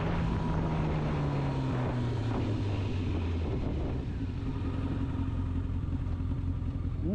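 A 1997 Honda CBR1100 XX Super Blackbird motorcycle rides along with a steady, loud engine drone and falling pitch as revs drop, wind rush constant throughout, no talking.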